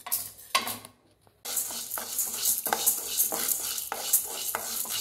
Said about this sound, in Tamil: உளுந்தம்பருப்பு இருக்குது துவரம் பருப்பு இருக்குது இது ரெண்டையும் வறுத்துக்கிறாங்க